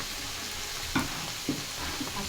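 Potatoes tipped into a hot pan for a potato and sidol chutney, frying with a steady sizzle while a utensil scrapes and stirs in three short knocks.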